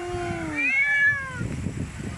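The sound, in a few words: cat meowing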